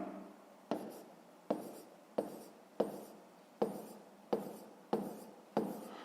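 Pen strokes on paper while numbers are written out for a fifth-grade maths exercise: short, crisp scratches arrive in a steady series of about eight bursts, close and quiet, with no talking.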